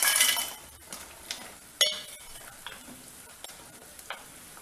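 Fried papad goes into a simmering tamarind kuzhambu. A soft bubbling sizzle runs under scattered metallic clinks and stirring taps from the pan, close and fairly quiet.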